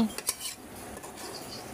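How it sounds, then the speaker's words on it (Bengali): Spiced meat being turned and stirred in a metal pot, with a couple of sharp utensil clinks early on and then a steady, soft scraping and shuffling at close range. No one speaks. "সবগুলো মাংস উল্টিয়ে দিচ্ছি, উল্টিয়ে ভালো করে নেড়ে দিচ্ছি"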